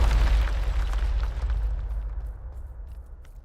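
Bombarda blasting spell from the video game Hogwarts Legacy, a loud deep boom that rolls out and decays over a few seconds into a fading rumble with faint crackles.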